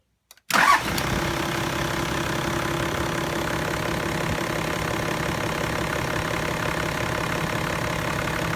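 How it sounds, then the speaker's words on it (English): A Toyota LandCruiser engine cranks and catches after a short silence, then settles into a steady, loud idle that runs alone for several seconds. "We're just going to start the landcruiser up now."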